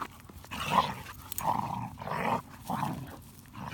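A dog growls and grumbles during play in a field, standing over another dog that lies on the ground. The rough, moderately close growls come in repeated bursts with brief pauses between them, and no one speaks.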